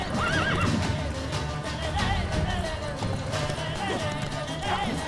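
A horse in The Witcher 3 whinnies loudly several times over steady galloping hoofbeats, with game music and combat noise filling the background.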